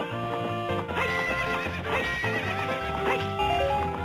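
A horse neighs in Zelda: Ocarina of Time, a whinny heard over hoof clip-clops, layered on background game music.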